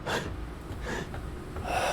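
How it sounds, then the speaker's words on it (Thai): A character in the survival video game Forever Skies pants heavily, giving a series of breathy gasps and exhalations at moderate loudness with no speech. "หายใจอย่างหอบ"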